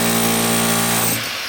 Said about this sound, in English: Shake the drill a bit.